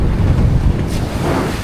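Rough sea and gusting wind buffet the microphone aboard a boat heading out to open water off Samar, a steady broadband roar with surging swells and no voices.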